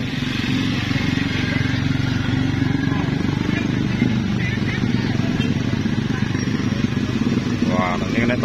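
Motorcycle engine runs with a steady, loud droning rumble throughout, close by, with voices faintly audible over it.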